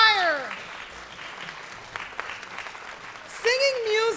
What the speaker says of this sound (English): Let's give another round of applause to our students and community members who gathered